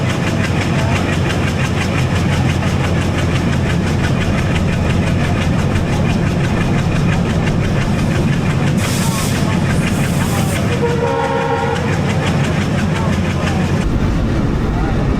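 Ovijatri commuter train pulling out of Nagarkanda at night, a steady loud rumble of engine and wheels on rail with rhythmic clatter running throughout, a brief hiss and squeal near the end.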